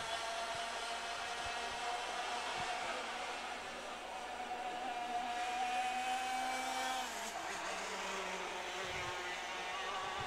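Copa SPR Light race cars circling a track, a sustained engine drone with a rising whine and a pitch drop near the end as a car passes, steady and moderately distant with no talk.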